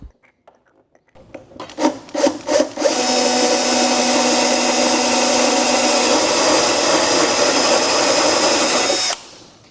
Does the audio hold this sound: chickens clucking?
no